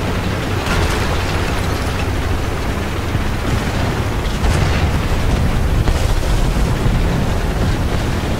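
A tank explosion in War Thunder: a dense, sustained roar of blast and rumbling noise that fills the whole stretch, loud and steady, swelling slightly midway.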